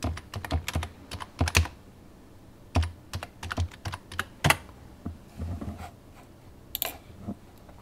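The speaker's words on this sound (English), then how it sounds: "Let's type it." Fingers type on a computer keyboard at close range, bursts of quick crisp key clicks in uneven runs separated by short pauses, with no talk.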